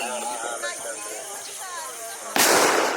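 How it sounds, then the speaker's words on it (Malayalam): An air gundu firecracker goes off outdoors during a Vishu celebration with a sudden loud blast that trails into a hissing rush, after a stretch of people talking. "ഗുണ്ട് എയർ ഗുണ്ട്"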